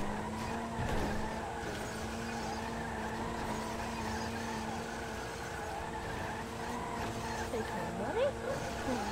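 A motorbike in the video game GTA 5 runs with a steady engine drone and squealing skids, continuous throughout, while someone talks over it.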